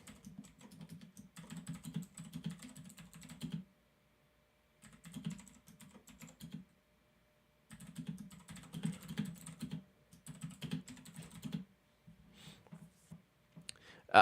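Quick bursts of clacking keystrokes on a computer keyboard, close and clear, arriving in several runs separated by short silent pauses.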